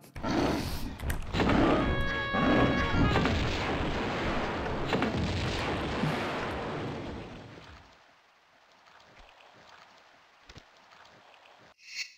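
Heavy booming grenade launcher blasts fire in a quick series in Tomb Raider II, loud and dense, then fade to a quieter stretch with a few scattered thumps.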